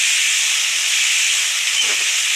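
Ingredients sautéing in a hot pan for fennel chutney, a loud, steady broadband hiss that holds without break, close by and alone.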